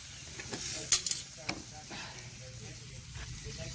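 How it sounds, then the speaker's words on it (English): Pork ribs laid on a grill at a Memorial Day cookout hiss steadily in a low sizzle. Several close knocks and clacks sound as the meat is placed. Faint background noise runs throughout. "now we're going to take the ribs and we're going to put them on the grill"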